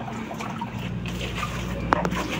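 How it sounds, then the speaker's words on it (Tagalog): Water runs and trickles steadily from a tap during a bath, with one brief splash near the end; it sounds close and fairly quiet. "Tubig yan."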